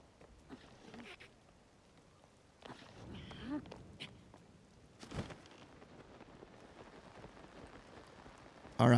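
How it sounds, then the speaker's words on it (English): Steady rain falls across the fields of Hyrule in a Zelda video game, a soft, even hiss that stays faint and continuous with occasional louder patters and a brief loud burst at the end. "It's turning into just rain now."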